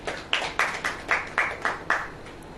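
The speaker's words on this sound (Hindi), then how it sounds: "ताली बजाइए।" An audience at a Christian church sermon clapping hands in a steady rhythm, about seven evenly spaced loud claps close by, no speech over them.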